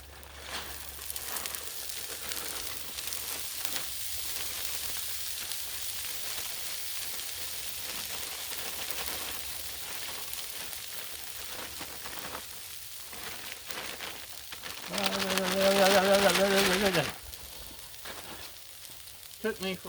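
Hash browns sizzling on a Blackstone griddle, a steady crackling fry across the whole stretch with a louder hissing surge near the end.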